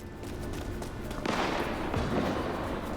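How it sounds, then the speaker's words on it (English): Gunfire in the video game Vampire: The Masquerade - Bloodlines 2, with a cluster of sharp cracks and bursts coming in about halfway through, over a steady background of game ambience. "Why is there gunfire?"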